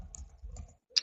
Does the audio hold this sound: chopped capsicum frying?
no